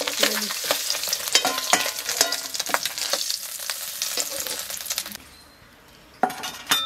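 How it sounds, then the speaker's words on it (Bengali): Pointed gourd (parwal) frying in oil, a loud, dense sizzle broken by clinking stirring strokes against the pan, then a short quieter gap before the sizzle and stirring return. "ওই তেলেই পটল ভেজে জল নিলাম"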